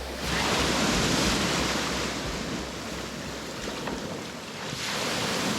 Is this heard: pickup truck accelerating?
no